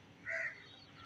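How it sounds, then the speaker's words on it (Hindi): A single short, harsh crow caw rises briefly over faint background noise at dusk, then fades away. "कौवे बहुत ज़्यादा शोर कर रहे हैं।"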